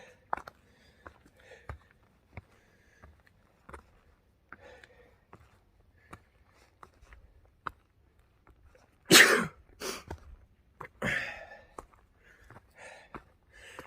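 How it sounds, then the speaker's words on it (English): A single loud sneeze bursts out after a stretch of faint rustling and small clicks, followed by a few sniffs and softer breathy sounds nearby, on a mountain hiking trail. "I've just been sneezing up this entire mountain."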